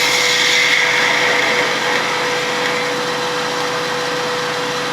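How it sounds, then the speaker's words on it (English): Wood lathe spinning steadily as a spindle gouge shapes the point of a wooden spinning top, a constant high whirring hum with a steady tone and a rough cutting hiss over it, close and loud. "I'm going to put the spindle gouge on its side and ride the bevel right down."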